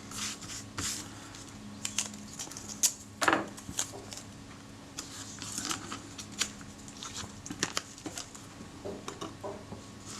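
Scissors snip masking tape on a Kodak Retina IIIc camera, a close series of small irregular clicks and crisp cuts scattered over quiet room tone.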